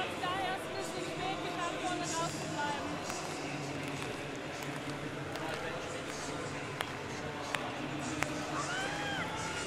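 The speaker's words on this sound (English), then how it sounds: "Getting a bit of crowd support." Low, continuous stadium crowd murmur and cheering during a women's long jump final at the Tokyo Olympics, spread evenly throughout, with a few sharp claps near the end.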